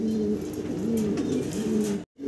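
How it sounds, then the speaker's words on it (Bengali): Fancy pigeons, including German Beauty Homers, coo steadily and close up in low rolling phrases at a pigeon seller's, with one brief break near the end. "চমৎকার চমৎকার ফ্যান্সি কবুতর আছে"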